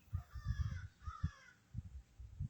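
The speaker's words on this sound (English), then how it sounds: "my crows are really talking today." Several crows caw loudly in quick, rough bursts, with calls overlapping and repeating through the whole stretch, close by and no talking.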